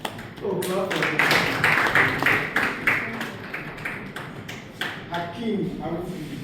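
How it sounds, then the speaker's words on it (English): Audience clapping at a university closing ceremony for a short course in household water treatment systems, a dense round of applause running through the clip with voices over it. "Oh, clap for him."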